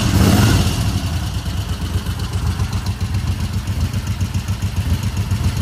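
Moto Guzzi Le Mans 1000 motorcycle engine running at a loud, near, lumpy idle, with a rapid pulsing rhythm throughout and slight revving at the start.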